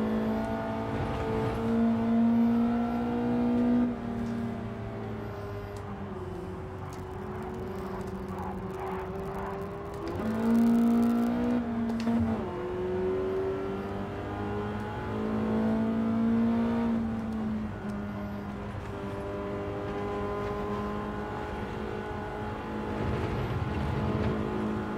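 A Ford Sierra Cosworth and other race cars drone through Gran Turismo 7, sustained engine tones rising and falling in pitch as revs shift over about twenty-five seconds, loud and continuous with no talk.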